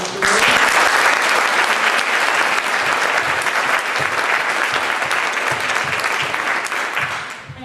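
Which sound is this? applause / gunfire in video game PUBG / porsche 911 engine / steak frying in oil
applause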